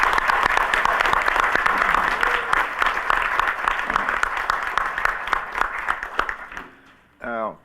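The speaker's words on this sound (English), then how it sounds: "Let's give them one more round of applause" Sustained audience applause at a school board meeting, a thick wash of clapping that holds for several seconds, then thins and stops, followed by a brief burst of talk at the end.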